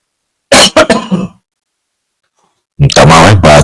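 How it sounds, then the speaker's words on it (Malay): A man gives a couple of sharp coughs and clears his throat up close, then falls silent before speaking again. "Minta maaf, batuk pula."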